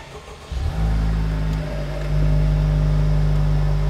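A 2023 Honda Civic Type R FL5 engine cranks and fires up nearby, settling into a loud, steady low idle that steps up in pitch into a high cold-start idle.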